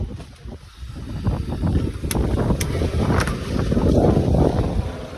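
Strong wind blows outdoors as the weather turns, a loud, steady rushing roar with gusty swells buffeting the microphone throughout, with no voices.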